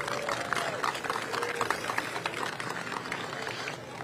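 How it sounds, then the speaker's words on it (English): Outdoor crowd applause at the opening ceremony of an international sand sculpting festival, a dense wash of clapping over a few seconds with faint voices mixed in, tapering slightly at the close. "let's give a round of applause for them as well"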